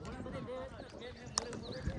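Horse hooves clip-clop along in Sonmarg, Kashmir, beneath steady chatter and background noise, with a couple of sharper knocks standing out near the end.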